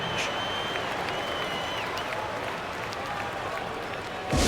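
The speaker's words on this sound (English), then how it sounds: "Nice round of applause for your 76ers, Ian." Simulated arena crowd applause in the NBA 2K25 video game as the Philadelphia 76ers take the floor against the Hornets: a steady, moderately distant wash of clapping and crowd noise that swells suddenly at the very end.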